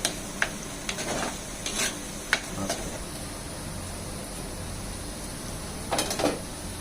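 Sprouted green gram cooks in a pan, a quiet low sizzle under a scattering of spatula taps and scrapes, with a cluster of stirring near the end; close, no talk.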